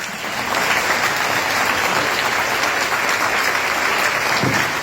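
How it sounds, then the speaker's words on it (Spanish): Loud, sustained applause from a crowd at a ufology congress, dense clapping that carries on steadily from start to finish. "Fuerte el aplauso"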